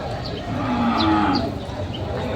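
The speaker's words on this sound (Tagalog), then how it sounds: "Malaking kalabaw dito." Water buffalo (carabao) mooing at a rainy livestock market, with several low, drawn-out moos over a steady crowd and rain murmur.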